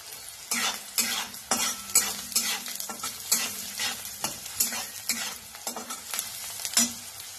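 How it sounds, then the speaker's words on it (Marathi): Onion frying in hot oil for a masala bhindi (okra) dish, a steady sizzle broken by repeated loud scraping stirs of the pan at a brisk, irregular rhythm, close by with no talking. "तेल चांगलं तापल्यानंतर कांदा लगेच भाजतो आणि टेस्ट पण चांगली येते।"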